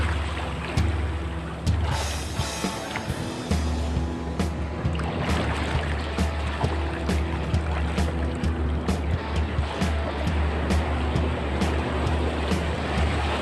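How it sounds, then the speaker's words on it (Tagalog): Large ocean waves wash and slap around a small boat at sea during lobster fishing, a steady loud rushing surf with recurring knocks and splashes close by, with no talk. "Alon na naman."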